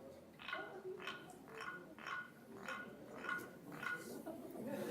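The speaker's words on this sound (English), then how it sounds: "Who wants to play the ribbit block? The frog." A wooden ribbit block, a frog-shaped percussion instrument, is scraped in a steady series of about seven raspy croaking strokes, fairly faint against a quiet room background.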